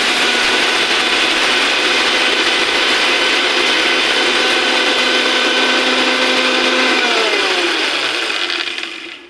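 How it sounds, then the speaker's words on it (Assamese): A kitchen mixer grinder pulverises whole spices with a loud, close, steady whirring motor roar that holds for several seconds, then winds down and fades out near the end. "এয়া গোটা মছলাখিনি এতিয়া আমি অলপ মিক্সিত মাৰি লওঁ"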